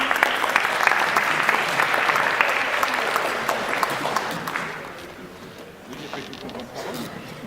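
Sustained applause from a banquet crowd of veterans' association members, steady and fairly loud for about five seconds before thinning out into scattered claps and room murmur.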